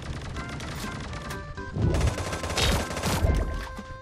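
Gunfire in the Sausage Man battle royale game, several overlapping bursts of shots with impacts, louder and denser toward the middle, all without any talking.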